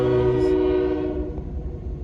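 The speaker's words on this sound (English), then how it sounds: "Here comes the train." A train passing close by, a loud sustained horn blast opening over rumbling wheels, the horn cutting off after about a second while the rolling rumble continues and fades slightly.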